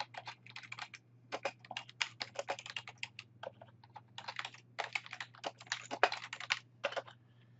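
Typing on a computer keyboard into a spreadsheet: close, crisp key clicks in irregular bursts with short pauses, over a constant low electrical hum.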